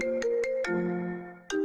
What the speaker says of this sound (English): Went with the classic ringtone, I see.